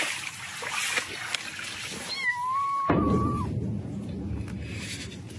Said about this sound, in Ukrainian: рятувальники відшукують покинутих цуциків і кошенят